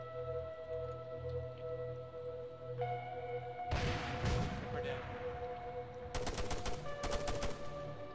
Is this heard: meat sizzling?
no